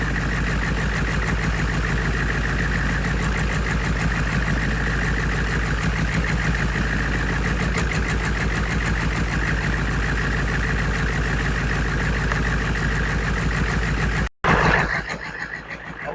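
A GEP/Navistar 6.5 diesel engine with a Stanadyne DB2831-4911 injection pump idles steadily with a rapid, even knocking clatter, loud and close, until an abrupt cut near the end leaves a brief quieter stretch.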